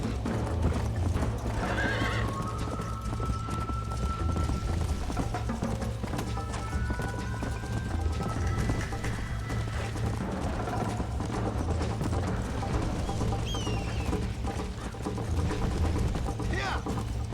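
Steady hoofbeats clip-clop throughout while a horse whinnies now and then, all under a continuous low game-soundtrack rumble in Red Dead Redemption.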